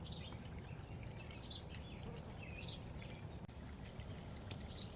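A small garden water fountain trickles softly and steadily among ferns, while birds chirp faintly in the background.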